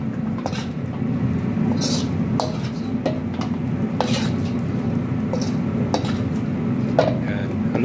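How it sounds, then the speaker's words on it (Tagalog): A utensil scrapes and stirs sugar with banana plantains in a hot pan, steady sizzling under repeated clinks and scrapes against the metal, close and continuous. "Haluin nyo lang ng haluin hanggang sa mag-transform siya ng yung dry na masyado na sugar"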